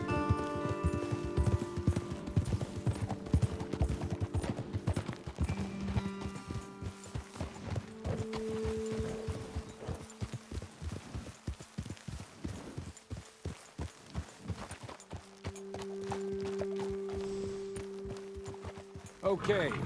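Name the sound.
horses clip-clopping while ridden, Red Dead Redemption 2 video game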